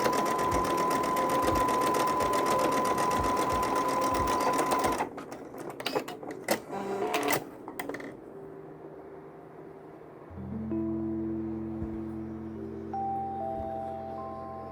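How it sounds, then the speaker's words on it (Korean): Sewing machine stitching the side seam of a bucket hat's outer fabric, a steady close whirring run of rapid needle strokes for about five seconds, then it stops, leaving handling noises and a soft tonal background. "옆선을 재봉해 주세요."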